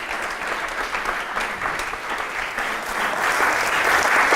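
An audience at a conference talk on profiling Node.js applauds, producing dense, continuous clapping that holds steady and swells slightly toward the end, with no voices over it.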